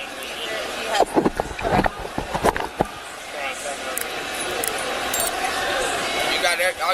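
Keys jangle and clink in a few quick metallic bursts during a police encounter at an amusement park, with people talking over the rattling and steady outdoor background noise.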